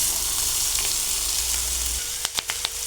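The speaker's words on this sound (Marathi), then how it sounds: "कांदा चांगला परतून घ्यायचा आहे।" Finely chopped onion sizzles steadily in a hot pan, a loud, close frying hiss, with a few quick scraping stirs near the end.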